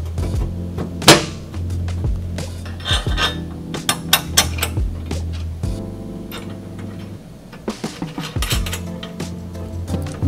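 Bolting up the pivot points of a leading link front suspension on a motorcycle gives a run of metallic clinks, taps and tool clatter over a steady low hum, close and moderately loud, with no talking.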